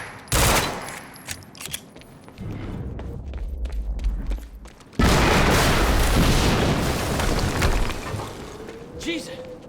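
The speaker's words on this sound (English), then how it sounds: "HQ, we just heard an explosion near the harvesting perimeter." Explosions and heavy gunfire boom through a Quantum Break game scene, a sharp blast early on followed by a louder, sustained roar of rumbling detonations and crackling debris.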